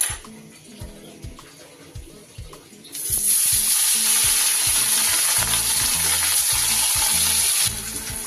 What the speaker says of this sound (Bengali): সর্ষের তেল কিছুটা দিয়ে দিয়েছি। তেল আমার গরম হয়ে গেছে